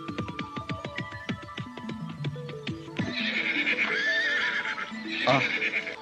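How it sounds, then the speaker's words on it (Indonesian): Horses ridden toward a river border crossing whinny loudly, with a rapid descending neigh followed by longer, shriller calls over a low background bed, and a voice briefly speaks. "Jaka Badak, Dewi Astini dan Tri Andiani terus berkuda sampai di perbatasan Kaliwidas."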